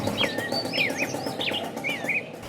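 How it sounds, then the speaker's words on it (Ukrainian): Several birds sing in the open air at Lake Toba, Sumatra, with repeated whistled, warbling phrases over a steady background hum of the surroundings. "А ось такі пташки тут співають і радують вухо"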